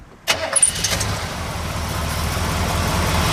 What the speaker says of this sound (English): Go ahead and fire this one up for you.